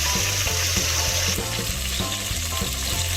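Onions sizzle steadily in a hot pan while being cooked for mutton thahari, a continuous crackling fry broken by occasional stirring scrapes, close and fairly loud with no talking.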